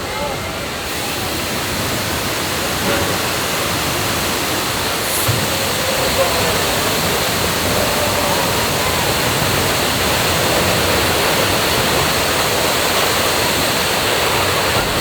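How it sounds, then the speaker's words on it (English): Simulated flash flood on the Universal Studios Earthquake tram tour set: a loud, steady torrent of rushing water roars nonstop for the whole stretch, with faint voices underneath. "after that flash flood"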